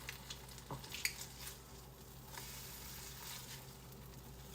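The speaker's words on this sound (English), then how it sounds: "Nice little sizzle." Ham sizzles gently in a pan on the stove, a soft, steady frying crackle with faint scattered pops and a light clink near the start, heard alone without talk.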